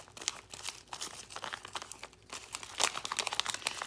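Transfer tape being rubbed down and peeled off a Cricut vinyl cross for an Easter card, a steady close crinkling and scratchy rustle with brief crackly peaks, no voices.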